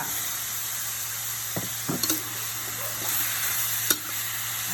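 Minced pork and zucchini stir-fried together in a pan, a continuous loud sizzle broken by several sharp spatula scrapes and knocks against the pan.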